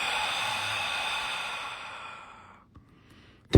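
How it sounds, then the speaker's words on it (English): A slow, breathy exhale drawn out over a few seconds, fading gradually to near silence, followed by a short sharp noise at the very end. "And exhale slow."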